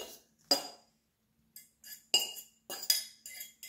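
A fork mashes bread in a glass salad bowl for a northern French bread pudding, with sharp metallic clinks and scrapes coming in irregular bursts, close and fairly quiet with pauses between.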